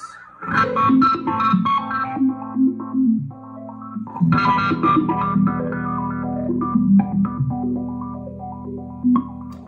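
An electric guitar runs through an FM4 filter pedal in obi-wah mode after a delay, a sweeping wah-style effect, phrases of notes rising and falling in tone, two bursts separated by a brief dip.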